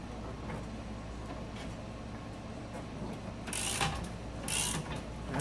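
A transmission jack cranking up and down: mechanical ratcheting and grinding runs throughout under a low steady air-compressor hum, with a couple of louder rasping bursts toward the end, close by.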